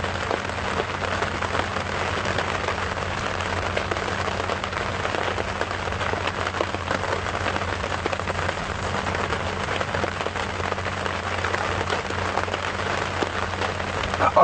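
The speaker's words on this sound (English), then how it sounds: "seems like there's a bit more rain coming in from the west" Rain falls steadily on a game reserve safari drive, making a dense, even, continuous patter with no voices.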